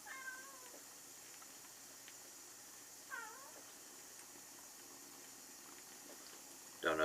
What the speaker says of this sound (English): Don't know if you can hear my cat wanting in the bathroom, wanting attention.